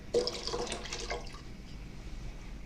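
Water splashes into a cooking pot that held a flour mixture as it is rinsed out, a brief bright pour and slosh that quickly fades to quiet room tone.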